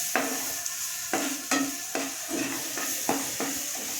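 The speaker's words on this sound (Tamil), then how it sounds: "நல்லா எண்ணெயிலேயே வதக்கினா தான் அது நல்லா வதங்கும்." Goat brain frying in oil with spices, a constant sizzle punctuated by about eight sharp scrapes of a spoon stirring in the pan, close and fairly quiet.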